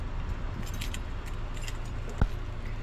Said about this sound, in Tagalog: May susi.